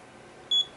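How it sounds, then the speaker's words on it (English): A digital height gage gives one short, clear electronic beep as its probe touches the workpiece surface, standing out alone against a faint background hum. "I'm going to come up till it beeps"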